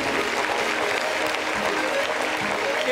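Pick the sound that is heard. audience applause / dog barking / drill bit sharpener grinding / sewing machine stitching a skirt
audience applause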